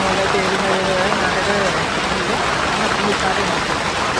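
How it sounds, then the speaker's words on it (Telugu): Steady rain falls in Kedarnath, a dense, constant hiss and patter that holds at the same level from start to end, with faint voices murmuring underneath. "వర్షం అయితే పడుతుంది 5 days తర్వాత."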